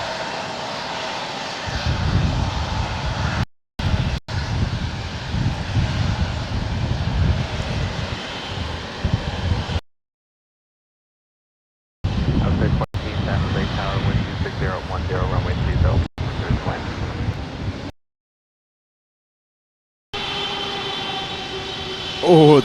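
Jet airliner with GE90 engines at an airport, a loud sustained engine roar broken by several abrupt gaps, with a voice talking over part of it.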